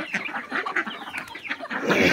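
Chickens and ducks eating scattered wheat and paddy at breakfast time produce steady, close clucking, a busy run of overlapping short calls that builds slightly louder toward the end.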